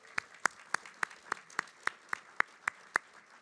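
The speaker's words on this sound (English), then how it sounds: "Can we please give them a round of applause?" A single pair of hands claps about eleven evenly spaced times in quiet surroundings, sharp and fairly close, without the wash of a full crowd.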